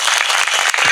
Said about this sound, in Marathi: त्याकरता या सगळ्यांसाठी एकदा जोरात टाळ्या वाजवा.